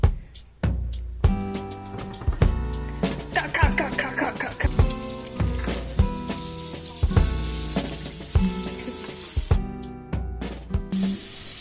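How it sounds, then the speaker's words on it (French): Chorizo and onions frying in a pan, a steady hiss and sizzle running throughout, partly covered by music with regular rhythmic beats. "on est en train de faire cuire les chorizo Et les oignons"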